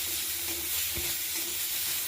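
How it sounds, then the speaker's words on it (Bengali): Potatoes fry with spices in a pan, producing a steady, close sizzle with soft stirring scrapes throughout. "আমি এটাকে অ্যাড করে এটা ভালো করে একটু মশলাটার সঙ্গে ভেজে নেব।"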